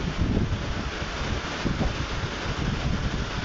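Strong wind blows over a roof as a steady, loud broadband roar with gusty buffeting against the microphone and no other clear sounds.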